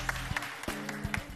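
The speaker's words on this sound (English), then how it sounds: "But I clap for them." Applause at a Nigerian entertainment show, a short burst of scattered claps, several distinct sharp hits at uneven intervals, close and moderately quiet with a brief hum behind.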